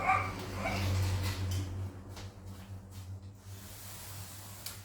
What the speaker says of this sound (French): C'est pas mon chien, c'est le chien du voisin.